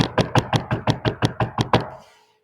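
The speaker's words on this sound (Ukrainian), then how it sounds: "це немовний звук, тому що ми його тільки чуємо і це постукали так по чомусь" Rapid knocking on a hard surface: about eleven evenly spaced, fairly loud raps over two seconds, then a short fading tail and silence. No voices.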